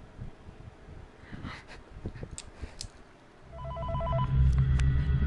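An old-fashioned telephone bell rings inside the Five Nights at Freddy's VR horror game, a loud repeating electronic trill that kicks in partway through after a stretch of quieter rustling and clicks.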